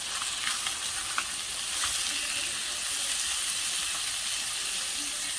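Catfish blackening in a hot skillet gives off a steady, close sizzle and crackle, an unbroken frying hiss with no talk over it.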